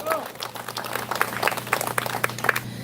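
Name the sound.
audience applause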